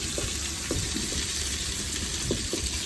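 Onions and spices frying for biryani, a steady close sizzle with soft periodic stirring scrapes, even and continuous throughout, no talking.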